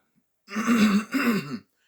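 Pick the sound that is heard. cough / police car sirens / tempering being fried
cough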